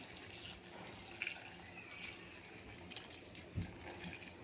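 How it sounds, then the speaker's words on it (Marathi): Heated water is poured into a pot for mutton curry, a soft, fairly quiet continuous splashing and gurgling pour with a couple of light knocks. "आता आपण याच्यासाठी पाणी गरम करून घेतलेलं आहे।"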